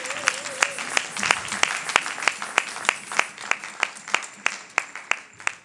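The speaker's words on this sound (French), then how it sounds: "Est-ce que nous pouvons applaudir pour ça?" A church congregation gives a round of applause during a sermon, with sharp, evenly spaced claps standing out above a softer bed of crowd clapping that runs for several seconds.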